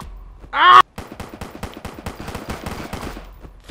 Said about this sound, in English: how's he have a fucking machine gun?